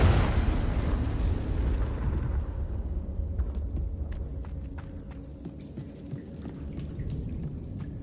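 A loud fiery blast from the Confringo spell in Hogwarts Legacy, booming at the start then fading into a rumbling tail with small crackles and footsteps.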